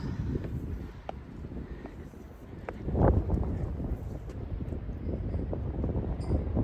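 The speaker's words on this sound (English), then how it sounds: "the wind that you hear in the background has been an absolute constant" Steady wind gusting over the coast near the small town of Trinidad, California, a constant low rumbling roar with a brief stronger buffet midway, heard alone without talk.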